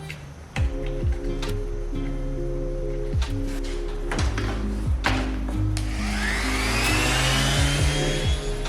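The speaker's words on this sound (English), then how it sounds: "I started sanding with a light pressure, not going too deep" A power sander with 320 grit whirs steadily with rhythmic ticking and scraping against a snowboard surface, the buzzing tone shifting as pressure changes.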